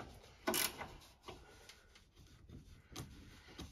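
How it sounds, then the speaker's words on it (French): A wrench tightens a 13 mm nut on a car's steering tie rod, giving faint, scattered metallic ratcheting clicks and clunks with one sharper knock early on, in a quiet setting. "Je serre suffisamment l'écrou de 13 pour pouvoir régler la biellette en roulant"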